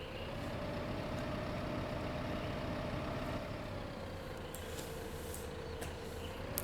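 A tractor engine in Farming Simulator 15 runs steadily with 1.8 tonnes loaded in the front bucket, a continuous droning hum that drifts slightly in pitch, close and even throughout.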